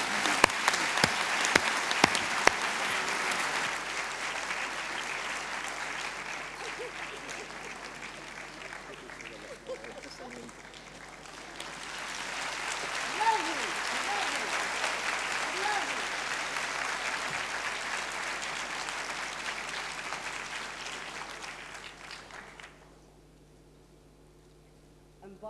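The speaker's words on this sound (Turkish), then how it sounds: "Kendilerini alkışlıyoruz." Applause from the audience at a world peace gathering as a speaker from India comes to the podium, a long steady wash of clapping that swells again midway, then stops abruptly near the end.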